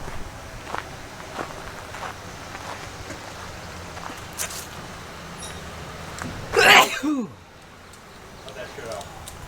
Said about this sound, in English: What, the sneeze isn't echoing?